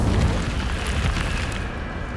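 A fire spell cast in the video game Hogwarts Legacy bursts out as a whooshing, booming flare, loud at first and then fading into a sustained crackling rumble over about two seconds.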